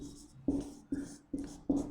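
Writing on a board during a physics lesson about the laws of reflection of light, four distinct tapping strokes spaced at a slow, even pace, close and clear over a quiet background.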